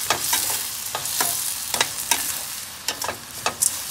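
Onions and gongura leaves frying in a pan for a shrimp curry, a steady close sizzle broken by regular scraping stirs of a spoon against the pan, roughly two per second.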